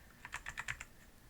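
Quick run of about six crisp keystrokes on a computer keyboard as a search keyword is typed in, close and fairly quiet, with no voices.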